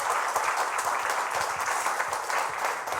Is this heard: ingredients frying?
no